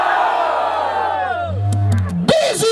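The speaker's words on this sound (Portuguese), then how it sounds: "Barulho para as rimas do Kenai" Crowd at a Brazilian freestyle rap battle, Batalha da Aldeia in Barueri, São Paulo, cheering, whooping and shouting together in a loud, sustained roar, with a voice rising above the noise near the end.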